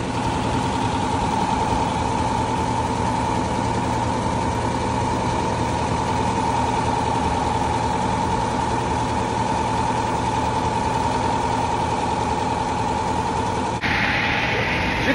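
An agricultural crop sprayer being winterized runs steadily during a cleaning rinse, a loud, unbroken engine and pump drone with a constant tone and no speech.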